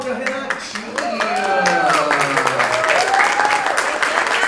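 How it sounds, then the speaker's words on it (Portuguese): An audience at a study-group session on education and health claps for a participant. Steady, fairly loud applause runs throughout while a voice speaks over it. "Aplaude a Renatinha!"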